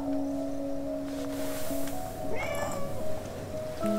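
A cat meows, a drawn-out tonal call near the middle of the clip, against a steady hum and background noise.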